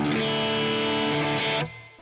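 A distorted, twangy electric guitar tone with bright high end, shaped by a Neural DSP plugin, rings loud and sustained for about a second and a half before cutting off to a faint tail.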